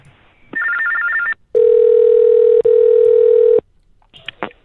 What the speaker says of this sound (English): This message will repeat in TTY tones.